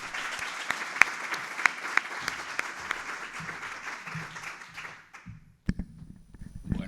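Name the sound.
audience applause for a speaker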